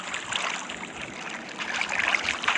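Water flowing away and draining in a new house, a continuous bright trickling and gurgling stream, fairly quiet and close, without speech.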